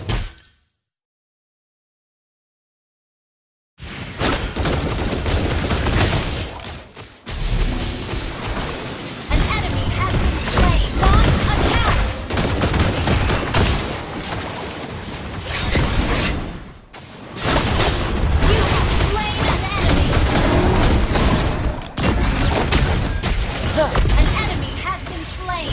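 Crescendo bullet skill shots fire in Mobile Legends: Bang Bang. After a few seconds of silence, loud, dense bursts of shattering, booming combat effects run almost without a break, with game voices mixed in.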